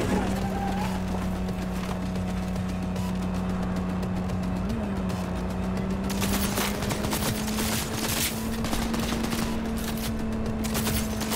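Gunfire from the video game Cyberpunk 2077 crackles in rapid bursts, loud and dense over a steady low engine-like drone. It starts sparser and grows into heavier volleys in the second half.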